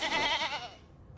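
A goat in a space game lets out one short, wavering bleat that fades within a second.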